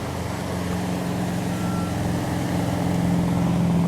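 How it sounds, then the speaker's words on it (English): Steady loud machinery rumble with a diesel engine droning and a faint repeating reversing beep, like heavy equipment working nearby. "They're doing some construction work behind me."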